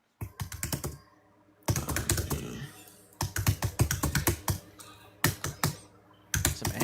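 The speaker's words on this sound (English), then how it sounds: "Sorry, my keyboard is loud." Loud computer keyboard typing in bursts of rapid clacking keystrokes, close to the microphone, separated by short pauses, with no talking.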